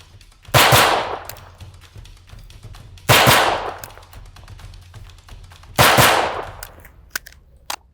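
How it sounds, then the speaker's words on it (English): Three sharp, loud pistol shots ring out a few seconds apart, each with a bright crack and a decaying echo, followed by a few faint clicks at the end. "literally I'll pull that trigger as fast as I can"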